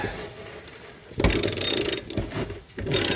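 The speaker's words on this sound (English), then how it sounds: "we're going to go ahead and get this bottom nut off of here, if we can" Close, quiet ratcheting clicks from a wrench working a bolt loose on a 1964 Ford Falcon transmission, in short bursts with brief pauses between strokes.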